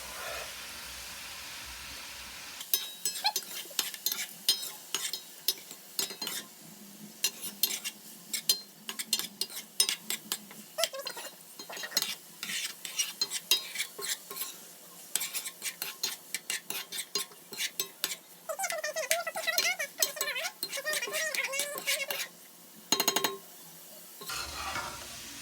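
Shrimp sizzle in a pan for fried rice while a utensil stirs and scrapes in quick, irregular bursts, loud and close, with steady frying hiss underneath and a brief quiet stretch at the start and end.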